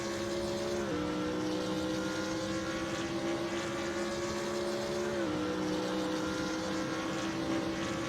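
Race cars roar down the front straight at Monza in a racing video game, a loud continuous engine whine that shifts pitch twice as gears change.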